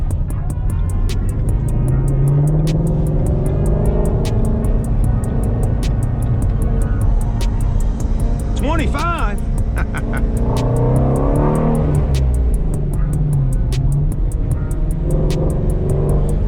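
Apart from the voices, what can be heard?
sports car exhaust while driving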